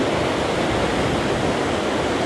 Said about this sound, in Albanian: Shifeni se sa i rrëmbyer është uji poshtë.